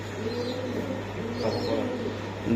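Soft, low pigeon cooing from a Blue Bar Beauty pigeon at a pigeon market, a steady murmuring coo with faint background hum and no clear talk.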